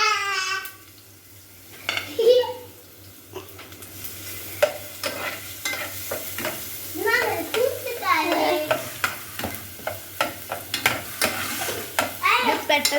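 Spice paste fries and gets stirred in a pan, giving a close sizzle broken up by repeated scraping strokes of the spoon against the metal. No one speaks.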